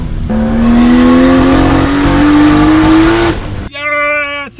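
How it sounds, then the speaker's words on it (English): A turbocharged Toyota MK4 A80 Supra accelerates hard on a test drive, its engine note climbing steadily in a loud, close roar before cutting off, then a brief second rev. "finally take the Supra for a proper rip"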